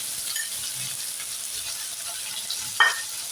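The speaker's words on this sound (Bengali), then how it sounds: "এবারে পেঁয়াজগুলো তেল গরম করে পেঁয়াজ দিয়ে দিলাম।" Onions frying in hot oil for masala Maggi, a soft continuous sizzle heard up close, with one brief sharper clink or stir near the end and no talking.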